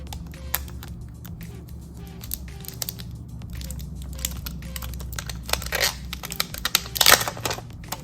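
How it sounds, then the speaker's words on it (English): Plastic packaging crinkles and tears close up as a Samsung Galaxy Z Flip4 Bespoke Edition phone is unwrapped, with scattered sharp crackles and a louder rustle near the end, and no talking. "Let's unwrap this"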